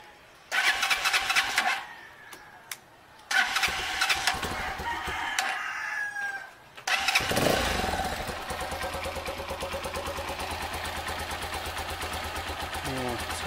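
A Motorstar motorcycle with freshly adjusted valves sputters through a couple of start attempts, then catches and settles into a steady running chug, while roosters crow and hens cluck nearby.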